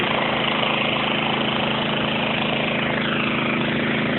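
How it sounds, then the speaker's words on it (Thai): A Honda water pump with a 4-inch pipe and a 5.5 engine runs at a steady idle. Its rough, continuous hum holds constant and loud throughout, with no talk over it. "เครื่องสูบน้ำของ Honda นะครับผม นะครับ เครื่องสูบน้ำท่อ 4 นิ้วนะครับ"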